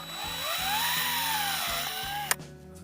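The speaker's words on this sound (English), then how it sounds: "This is just a drill bit fitting at the end of my drill." A power drill with a drill bit whines steadily at close range for over two seconds, boring a hole through the back of a plastic hula hoop, its pitch rising and falling slightly, then cuts off abruptly.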